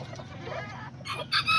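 Small aztec and serama-type chickens and roosters in a backyard coop, clucking and calling in short close bursts near the end, with a low steady background hum.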